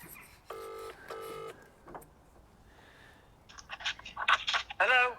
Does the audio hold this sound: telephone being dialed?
yes